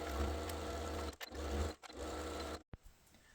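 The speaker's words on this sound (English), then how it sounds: "I'm now going to take it over the sewing machine and use a 1/4 inch seam allowance, sew all the way across." A sewing machine runs a straight seam across a tote bag with a quarter-inch seam allowance, a steady whirring drive broken by two short pauses before a final stop, close and moderately loud with no talk.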